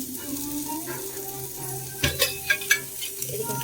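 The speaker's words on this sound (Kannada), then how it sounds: "ಇದಕ್ಕೊಂದು ಚೂರು ಎಣ್ಣೆ ಹಾಕೊಂಡು ಹುರ್ಕೊಳ್ಳೋಣ ಬನ್ನಿ ಫ್ರೆಂಡ್. ಈಗ ಫ್ರೈ ಮಾಡ್ಕೊಳ್ಳೋಣ ಬನ್ನಿ ಫ್ರೆಂಡ್." Onion and garlic frying in oil in a pan, a steady close sizzle with a few sharp utensil scrapes and clanks as they are stirred.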